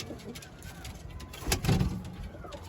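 Pigeons in a coop give faint, low cooing under a steady background hum, with a brief louder bump partway through.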